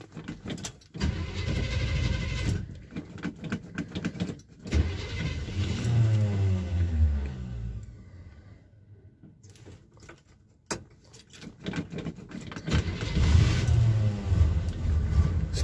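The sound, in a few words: 1978 GMC C15 truck engine cold starting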